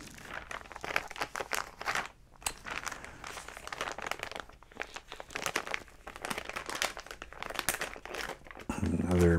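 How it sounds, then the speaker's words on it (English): Plastic packaging from a fiber-of-the-month club box crinkles and crackles steadily up close, with sharp crunches throughout. "the sound of crinkling plastic"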